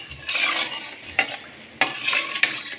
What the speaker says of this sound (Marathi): सगळं या पाण्यामध्ये ॲड करायचं आहे आणि मस्त व्यवस्थित मिक्स करून घ्यायचं आहे